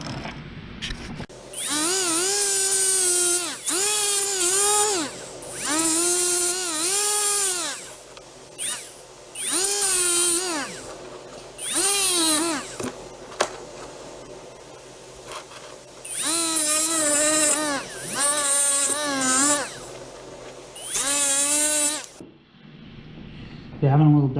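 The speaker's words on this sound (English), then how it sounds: "having a little die grinder like this sure speeds the process up, just with the little flap wheel on it" A Milwaukee die grinder fitted with a flap wheel grinds chainsaw teeth in repeated high-pitched whining bursts, each rising and falling as it touches the metal, with short pauses between passes; loud and close.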